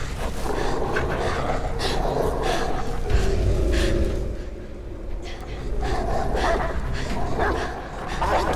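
Dog in the video game Beyond Two Souls, barking and yipping in loud bursts over dense, busy game audio, with excited voices talking throughout.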